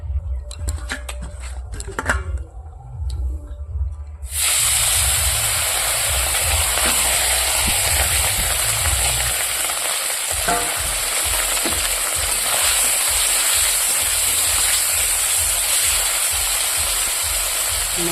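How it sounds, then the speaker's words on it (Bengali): After a few seconds of kitchen clatter, fish hits hot oil and a loud, steady sizzle takes over, continuing close and unbroken. "কড়াই বসিয়ে দিয়েছি তেল দিয়ে দিয়েছি এবার আমি ভেজে নেবো মাছগুলো"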